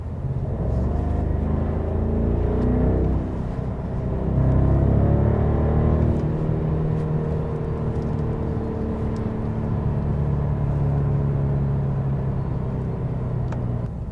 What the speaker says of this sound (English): And once you go to Sport, you feel the downshift.